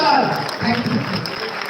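An audience at a public gathering on One Nation One Election applauds to welcome the chief guest, a dense, steady clatter of clapping heard close throughout, with someone speaking over it.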